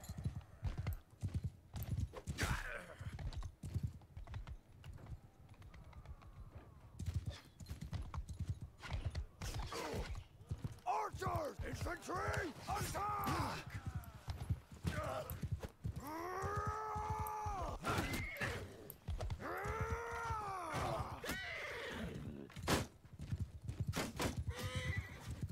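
Horses in the medieval battle game Mount and Blade Bannerlord give rapid, continuous hoof clip-clops mixed with repeated loud neighs and whinnies, layered over busy battle noise.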